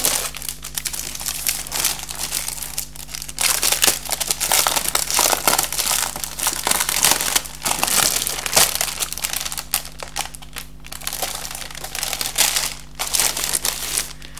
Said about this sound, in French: je vais retirer le papier de soie, ça fera moins de bruit pour vos oreilles.